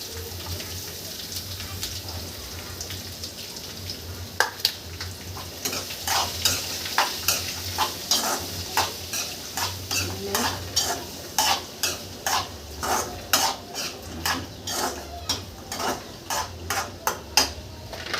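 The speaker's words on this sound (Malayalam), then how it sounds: "ഇനി നമുക്കതിലോട്ട് ഉള്ളിയിടാം" Sliced onion goes into a pan of frying coconut pieces and gets stirred, a steady sizzle punctuated by a long run of regular, close scraping strokes against the pan.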